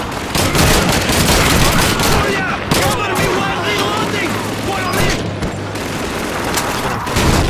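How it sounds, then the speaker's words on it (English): Dense wartime gunfire and explosions from the Call of Duty 2 video game, Stalingrad 1943 setting, with tank cannon shots, steady loud bursts of rifle and machine-gun fire and booms throughout, a low rumble mid-clip. "That tank always shoots me."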